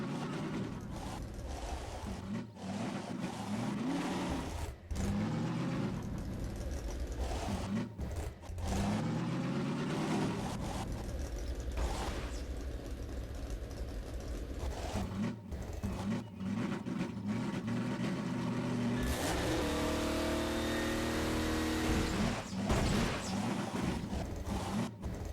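Car engine in Half-Life 2: Episode 2 whirs and revs steadily while driving, rising and falling in pitch with short drops. Speech from the game can be heard over the engine at moments.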